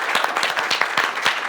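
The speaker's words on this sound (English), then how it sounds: "I'm going to clap that." Clapping from a live audience at a nature podcast recording at Global Birdfair, a brisk burst of close, distinct hand claps with a crowd blending in behind.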